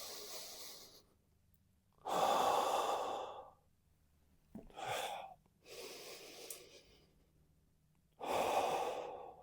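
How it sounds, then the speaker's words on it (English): Slow, deep breaths are taken during a spinal rotation exercise: three loud, airy exhales and a shorter one come in a measured rhythm, close up and alone, with quiet pauses between them. "Then I breathe out."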